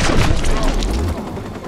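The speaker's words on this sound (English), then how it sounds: "Bastard's got a gun! Oh shit, I have a gun" Gunfire in the video game Watch Dogs, a dense burst of booming shots that crowds the first second and then thins to a rumbling tail, mixed in with game noise.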